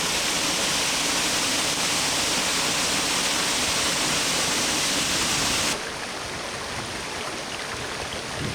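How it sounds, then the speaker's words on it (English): Waterfall on Sooke's western shores roaring as a steady broadband rush, loud and close, then dropping to a slightly softer, thinner wash after a few seconds. "There's a waterfall for you."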